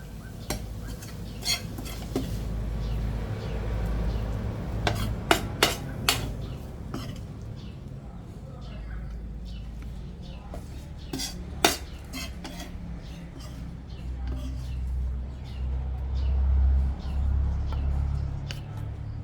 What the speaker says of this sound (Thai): ตักขึ้นใส่ชาม